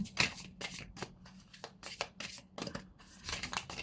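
A deck of tarot cards is shuffled and drawn in a quiet room, giving repeated crisp riffling bursts in an uneven rhythm, close and fairly soft, with no talk.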